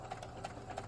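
A sewing machine stitches forward and then back stitches along the casing of a drawstring bag, a quiet, steady run of needle strokes with faint rhythmic clicks close by.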